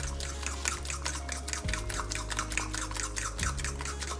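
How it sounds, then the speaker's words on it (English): Potato, onion and egg mixture for a Spanish tortilla being stirred in a bowl: a quiet, steady run of soft wet clicks and squelches in a regular rhythm, close up and without talk. "I'm just turning my bowl as I mix"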